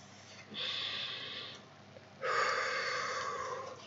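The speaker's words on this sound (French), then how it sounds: "on va prendre le temps de bien respirer" Two slow, deep breaths during a guided meditation, each a long airy inhale or exhale heard close and alone in a quiet room.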